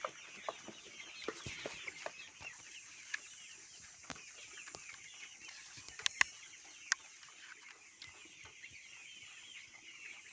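Broiler chickens, about forty days old, cluck and peep softly in a shed, a continuous low chatter with occasional sharper calls and brief wing flutters, fairly quiet and steady throughout.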